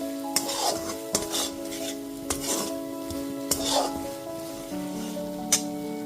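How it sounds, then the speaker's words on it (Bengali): Sugar being stirred into a pan of small new potatoes cooked with tomato: steady spoon scrapes repeat every second or so over a soft, continuous sizzle, close up with a faint steady hum behind. "চিনিটা দিয়ে খুব ভালো মতো একটু মিশিয়ে নিচ্ছি"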